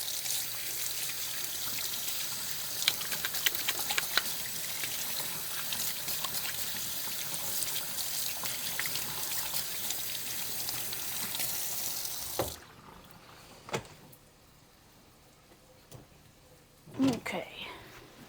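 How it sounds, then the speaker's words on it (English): Tap water runs steadily as hands are rinsed in a kitchen sink, a broad close hiss for about twelve seconds that then cuts off, followed by quiet with faint clatter. "Let me rinse this off my hands here."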